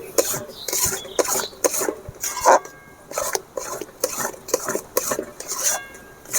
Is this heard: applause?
no